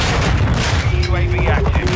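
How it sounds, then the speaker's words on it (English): Mortar strike explosions in Modern Warfare 2 set among heavy gunfire, dense rumbling booms and crackling shots packed together, loud and continuous, with a voice talking faintly over the din. "So hostile mortar strike incoming."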